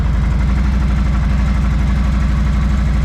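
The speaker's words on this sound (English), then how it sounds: "Let's fire this baby up. You want to hear stock exhaust?" Stock-exhaust 2021 Harley-Davidson Road Glide with its Milwaukee-Eight V-twin idling nearby, a loud, steady, lumpy low-pitched throb with an even rhythmic pulse.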